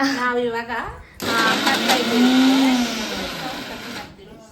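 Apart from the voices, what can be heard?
mixer grinder running in the kitchen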